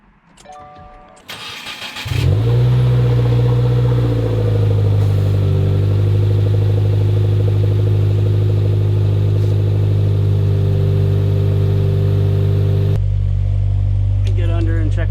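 A 2020 Subaru WRX fitted with an Invidia R400 catback exhaust cranks briefly, fires up and settles into a loud, deep, steady rumbling idle with slight revs, close to the exhaust.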